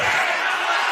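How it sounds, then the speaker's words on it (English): A loud crowd roars steadily throughout at a boxing fight in Metro City during the final seconds of a bout, a dense continuous wall of cheering with no pauses. "The crowd is so loud here in Metro City."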